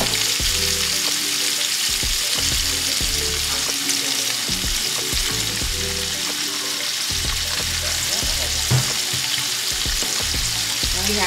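Fried rice with onion powder, garlic powder and salt cooks on high heat, a loud continuous sizzle with scattered scraping and tapping of a utensil, close and steady.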